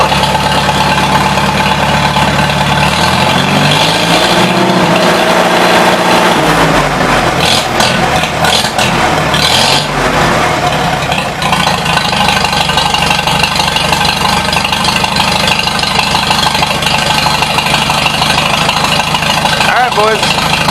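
Vintage 1953 Super H tractor engine idling loud and close with a carburetor leaking fuel through, a steady heavy rumble whose pitch rises and falls briefly as the throttle shifts, running continuously for the whole stretch.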